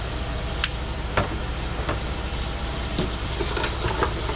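Dove meat seasoned with salt and black pepper sizzling loudly in a pan at a camp, steady dense frying with spatula scrapes and taps as the pieces are flipped.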